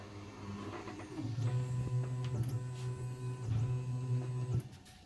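A Hotmine HM 300S 3D printer moves its print head to the second bed-leveling point, its stepper motors humming and whining steadily for several seconds with small clicks before stopping, close and alone.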